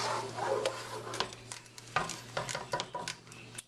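Homemade strawberry jam is stirred in a pot as it heats toward a boil, with a run of soft scraping and bubbling strokes close by over a low steady hum.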